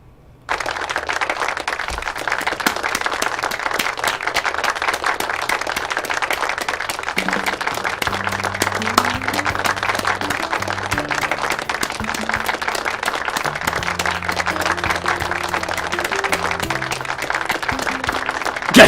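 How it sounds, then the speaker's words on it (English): Applause sound effect from the visual novel A Sky Full of Stars, a sustained crowd clapping that starts abruptly and continues evenly, with soft background music tones underneath. "With one final magnificent applause, the farewell party came to a close."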